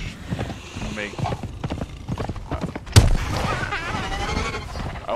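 Horse hooves clip-clop steadily while riding in the video game Conan Exiles, a close, even rhythm of footfalls mixed under continuous talking, with a sharp thump near the middle.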